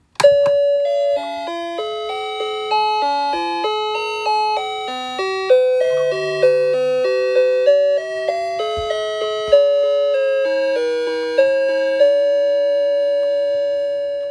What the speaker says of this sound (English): there should be 6 chimes here